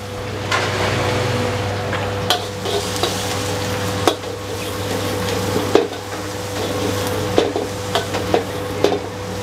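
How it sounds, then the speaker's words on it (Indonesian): Garlic sautéing in a wok in a kitchen, a steady close sizzle with a low hum underneath and sharp clicks and scrapes of a stirring utensil against the pan. "Oke, gue tumis. Langsung gue masukin bawang putih ya teman-teman ya."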